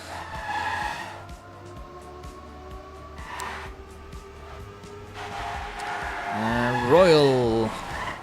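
Racing video game cars skid and screech as they crash, engine whines under speech near the end, with a sharp rising and falling tyre squeal that peaks loudly.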